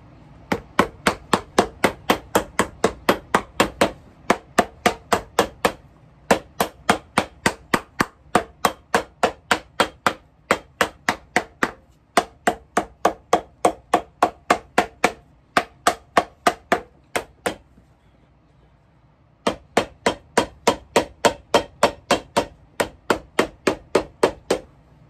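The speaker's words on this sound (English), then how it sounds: "let me hammer this on" A hammer strikes a shoe during a restoration, loud sharp blows in quick steady bursts of about a dozen each, separated by short pauses, with no talking.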